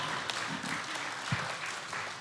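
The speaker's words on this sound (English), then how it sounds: "You got the first round of applause for that." Audience applause in an online game-show style interrogation between two Nintendo YouTubers, a steady dense patter of clapping at moderate level with no clear talk over it.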